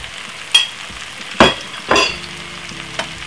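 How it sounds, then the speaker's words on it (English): Corned beef scraped into a hot frying pan, giving a few short, sharp sizzles and scrapes spaced about a second apart over a quiet background hiss. "So now we're going to scrape it inside of the frying pan"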